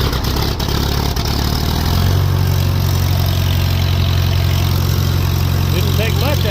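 A Farmall M tractor engine started cold without choke at quarter throttle after sitting over a day: cranking and a catch, then a loud, steady idle running close by.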